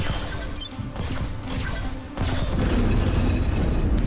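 A destroyer blows apart after torpedo hits in the space strategy game Terra Invicta. It comes as a dense, sustained crashing rumble with a sharp burst near the start and a louder swell of debris-like noise in the second half.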